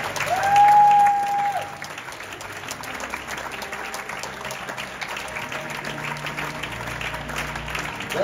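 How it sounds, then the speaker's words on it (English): A crowd applauds at a green carpet event in Zurich, with steady, continuous clapping from a large group and a sustained tone sounding over it near the start. "Keep that applause going, please."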